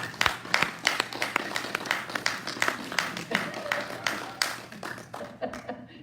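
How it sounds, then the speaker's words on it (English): A Sunday celebration congregation at a spiritual center in Carlsbad claps in a brisk, uneven burst of distinct hand claps close by, with a voice speaking over part of it before it fades. "Yeah, clap for me."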